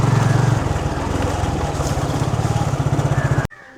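A motorbike engine runs steadily with a throbbing low putter, close and loud, then cuts off abruptly near the end, at a Pillaiyar temple in Velanai.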